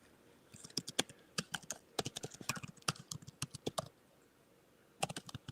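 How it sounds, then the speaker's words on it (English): Fingers type on a computer keyboard in quick bursts of clicky keystrokes, close and fairly quiet, with short pauses between runs and no talking. "I don't know what he's typing away here."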